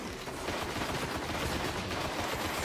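Shotgun fire in the video game Destiny, a dense continuous barrage of gunfire and combat noise with repeated low thumps throughout, loud and busy with no clear gaps.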